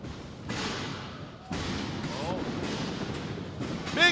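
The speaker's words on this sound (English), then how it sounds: "Big high back drop." A wrestler lands a high back drop in the ring with heavy thuds on the mat, amid a crowd's roar and a commentator talking over the action.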